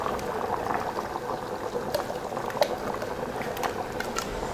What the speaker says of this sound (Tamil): குழம்பு நல்லா கொதித்து வெந்துட்டுருக்கு.